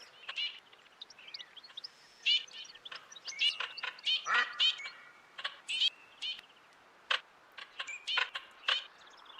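Many teal ducks calling in the open during a duck hunt, dense overlapping whistles and chirps from several birds near and farther off, in irregular bursts with no talk.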